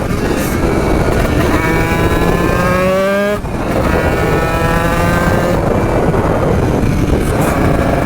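A motorcycle engine runs loud and close, its pitch rising in repeated revving sweeps over a rough, steady roar that dips briefly around the middle.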